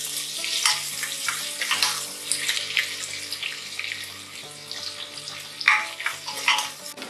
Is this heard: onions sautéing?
yes